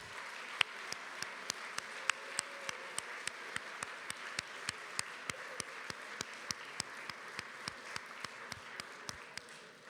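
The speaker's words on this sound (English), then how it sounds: "let's give all of our alums a round of applause." Applause from an audience honoring returning alums at a university Thanksgiving gathering, heard as steady broadband clapping beneath a regular series of sharp, evenly spaced taps or claps cutting through it.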